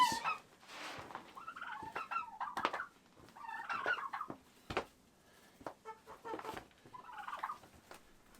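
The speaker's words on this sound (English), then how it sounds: "I hear you, turkeys." Turkeys gobble in repeated bursts out in frigid winter cold, a series of rapid warbling calls with short pauses between them, at moderate distance and fairly faint.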